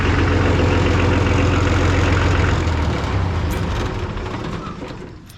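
An Oliver 1800 tractor engine running loud and close, a rough steady diesel-like rumble that eases down in level over its final seconds.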